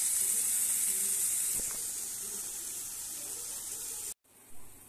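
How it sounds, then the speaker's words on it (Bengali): Vegetables frying lightly with salt in a pan give a steady, close sizzling hiss for about four seconds, then it cuts out abruptly and a faint hiss returns. "নুন দিয়ে হালকা করে ভেজে নেব।"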